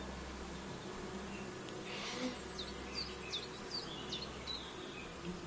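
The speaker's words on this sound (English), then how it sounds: "Oh my god, and there's little bees!" Bees buzz faintly and steadily in the game Kingdom Come: Deliverance 2, a soft insect hum over a low ambient bed, with a few brief chirps on top.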